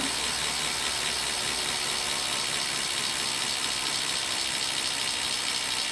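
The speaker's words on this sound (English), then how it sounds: "It says now performing spin down." A Wahoo Snap smart bike trainer spins down on its own during calibration, giving a steady whirring, ratchet-like mechanical drone with a broad hiss that holds at an even level throughout, with no one talking.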